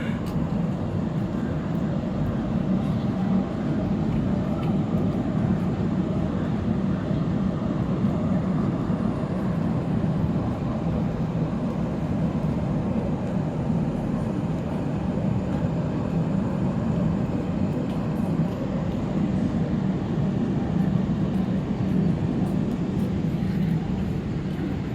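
Jaka Lalana heritage train running from Cianjur to Jakarta, a steady loud low rumble of rolling wheels and engine throughout, with no distinct breaks and no clear talk.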